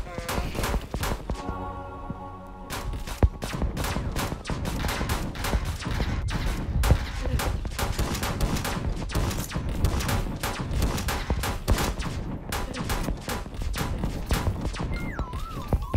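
Sniper fire and other weapons in the online game Graal Era, rapid sharp shots repeating densely and loudly throughout, with a voice talking over the gunfire at times.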